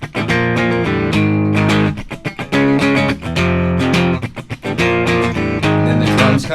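A distorted electric guitar plays a chugging power-chord riff, loud and close, with sharp muted strums between sustained chords and no other instruments.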